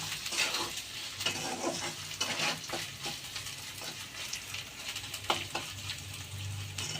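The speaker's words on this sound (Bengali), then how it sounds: "এবার মশলাটা আমি ভালো করে ভেজে নেব।" Spices, with a little sugar, frying and being stirred in a pan, with a continuous soft sizzle and repeated scraping and clinking of a utensil against the pan, fairly quiet and close, with no talking.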